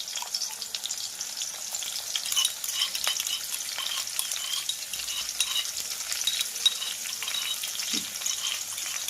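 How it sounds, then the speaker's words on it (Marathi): Chopped green chili and garlic fry in a pan over medium heat for a Marathi dill (shepu) vegetable dish, a steady close sizzle and crackle running throughout with occasional soft stirring clatter and no talk. "हिरवी मिरची आणि लसूण लाल होईपर्यंत भाजून घ्यायचं आहे"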